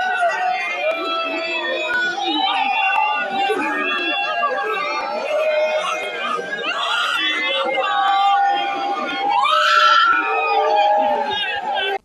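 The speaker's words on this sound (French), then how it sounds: "L'annonce de la triste nouvelle a plongé en larmes la foule présente." Crowd of Bamoun people wailing and crying in grief at the announced death of their sultan, Ibrahim Mbombo Njoya, with many overlapping voices sobbing and crying out in a loud, sustained mass of sound, one cry rising higher near the end.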